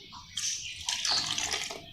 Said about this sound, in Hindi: थोड़ा सा इसमें पानी डालेंगे प्याज में